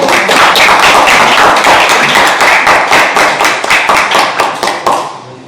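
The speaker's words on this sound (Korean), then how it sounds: "감사의 박수를 한번 보내드리고 싶습니다" Participants at a youth panel meeting in a National Assembly conference room in Seoul give a lawmaker a round of hand clapping, loud and close, thinning into a few distinct claps before stopping.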